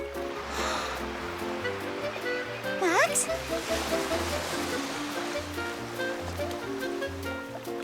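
Cartoon ocean waves washing over a sandcastle on a beach: a steady rushing surf wash under music, with a quick rising whistle-like effect midway and a voice calling out briefly.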